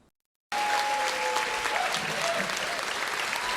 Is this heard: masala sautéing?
no